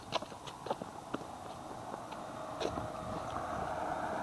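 Footsteps of people walking through a small village, faint, irregular steps and scuffs at close range over a low, steady background hum.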